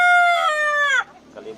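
An Ayam Cemani rooster crows loudly and close by, one long drawn-out call that cuts off abruptly, followed by faint background noise.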